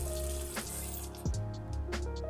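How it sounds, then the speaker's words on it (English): Tap water runs steadily into a bathroom sink while someone splashes and rinses their face, giving a continuous close hiss with brief splashes and slurping water sounds throughout, with no talking. "here you'll just see me rinse my face to wash the sleep off of my face"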